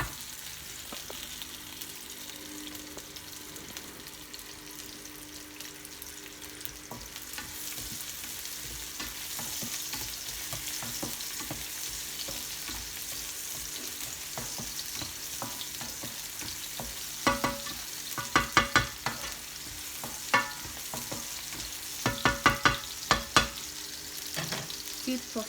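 Aromatic herbs fry in a hot pan before fish goes in, giving a continuous close sizzle, with a spatula scraping and clicking in quick bursts toward the end and no voices.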